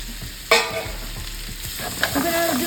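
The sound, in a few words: onions and greens frying in very hot pan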